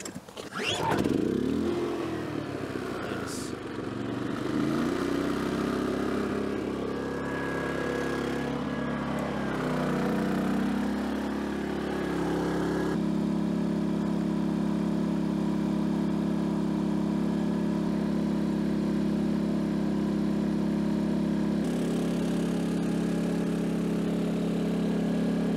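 A dual fuel generator running on propane hums steadily at a constant pitch throughout, loud and close, with no speech over it.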